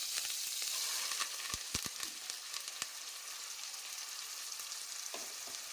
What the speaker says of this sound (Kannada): ಈಗ ಇದಕ್ಕೆ ರುಬ್ಬಿರುವಂಥ ಚಟ್ನಿ ಹಾಕ್ಕೊಳ್ತೇನೆ